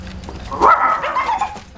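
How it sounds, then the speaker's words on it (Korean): A dog in a residential house set from the film The Chaser gives a single whining bark-like yelp that rises and trails off, fairly close, over a low background murmur. "이 강아지의 실제 이름은 해피입니다."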